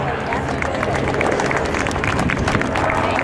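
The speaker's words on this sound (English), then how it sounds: "Please give them a round of applause" A crowd at the America's Cup applauds the event volunteers with dense, sustained clapping and a background murmur of voices.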